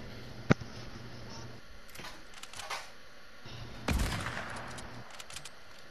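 Pump shotgun blasts in Fortnite: one sharp crack early and another a few seconds later, fairly faint over busy game ambience.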